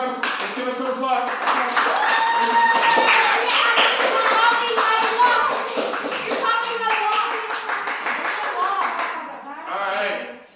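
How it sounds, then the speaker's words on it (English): Clapping in a classroom full of children, brisk hand claps mixed with lively overlapping kids' voices and chatter, fading briefly near the end before a last burst of noise. "Let's give us some applause."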